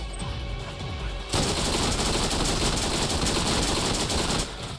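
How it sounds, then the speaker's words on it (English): Rapid, dense SMG fire in the Borderlands video game during a close-range Dahl Headlands fight, a sustained loud burst of shots running nearly the whole stretch after a brief quieter lead-in. "this SMG absolutely shreds close range"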